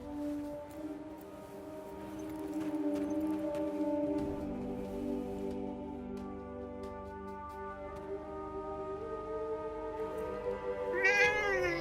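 A cat in the video game Forspoken meows in drawn-out, wavering tones against quiet game ambience, with a brighter rising cry at the very end.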